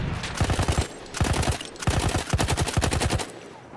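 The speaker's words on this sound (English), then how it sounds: "I'm gonna give you suppressive fire!" Suppressive gunfire in a video game, heard as loud, rapid bursts of automatic shots in several volleys with short gaps between them, close and dominant, with no talking.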